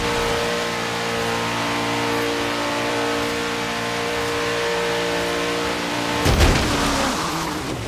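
In Forza Horizon, a player's fastest car howls along at top speed with a sustained, steady high-revving engine drone, a sudden loud burst of noise near the end, then the engine carries on.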